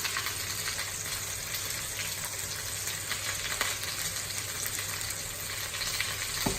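Food frying in a pan, seasoned with salt and pepper, gives a steady, continuous close sizzle with faint crackles throughout and no talking.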